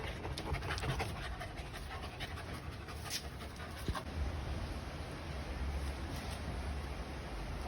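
Two Labrador dogs pant steadily and close up, a rapid rhythmic breathing that runs continuously under outdoor wind noise.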